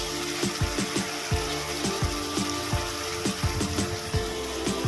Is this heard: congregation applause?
no